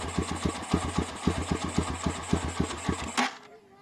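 An engine fitted with a 28 mm carburetor chugs in a rapid uneven pulse as it starves of fuel, then sputters and cuts out abruptly, leaving near silence.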